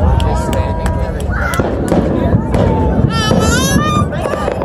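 Consumer fireworks bang and crackle at a backyard Fourth of July-style display, a dense continuous rumble of bursts with a fizzing whistle near the end, while people talk excitedly over it.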